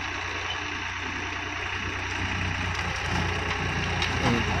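A vehicle engine idles and runs steadily at close range as the vehicle is turned around and parked, a continuous low droning hum that swells slightly near the end, with a voice talking over it.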